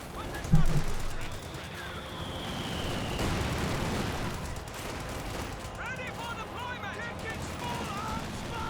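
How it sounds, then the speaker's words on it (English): Machine gun fire from N1919 guns cutting down Volksgrenadiers in a Company of Heroes 2 match, with bursts of automatic shots and distant battle noise continuing under a commentator's voice. "Volksgrenadiers are getting ripped apart by the N1919s."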